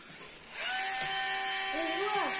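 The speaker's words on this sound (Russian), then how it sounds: "Шуруповерт." A cordless screwdriver drill whines up to speed and runs steadily, its pitch dipping and rising briefly as the motor loads, close and loud in a home kitchen.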